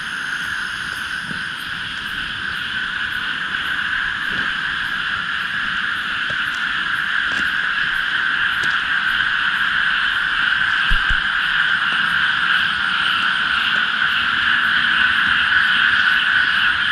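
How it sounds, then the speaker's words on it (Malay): Dense night chorus of frogs and other small creatures croaking and trilling, a steady high buzzing drone with faint regular ticking pulses, continuous and moderately loud throughout with no voices. "bunyi katak lah, bunyi haiwan macam-macam lah"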